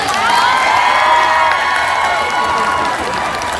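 A large crowd claps loudly and steadily for a few seconds. Cheers, whoops and shouts rise over the clapping throughout.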